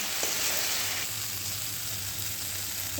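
Boiled chickpeas sautéing in a pan, a dense hissing sizzle that runs steadily and close without pause, with faint stirring touches.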